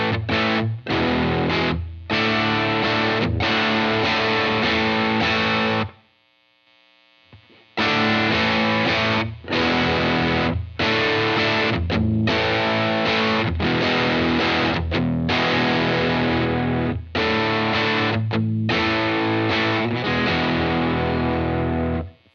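Electric guitar driven through a Lytt Effects Benny the Jet overdrive pedal, gritty chords and riffs played loud and close, with a brief silent gap near the middle before playing resumes, no voices.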